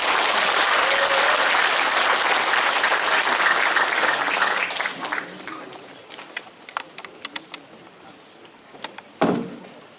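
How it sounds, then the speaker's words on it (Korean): An audience applauds to welcome a lawmaker at a political briefing, dense loud clapping that thins after about five seconds into scattered claps and a final bump. "큰 박수로 맞이해 주시기 바랍니다"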